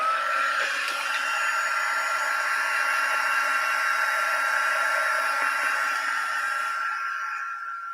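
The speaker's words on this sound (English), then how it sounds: "I might just give it a quick blast, actually. Just with the heat tool, a quick blast." A heat tool blasts hot air to dry watercolour card during papercraft, a steady loud whooshing hiss that runs unbroken for several seconds before easing off at the end.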